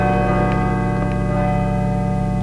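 A heavy bell rings steadily in the horror game Call of Cthulhu: Dark Corners of the Earth, a sustained resonant tone with layered overtones and soft repeated strikes, loud and alone.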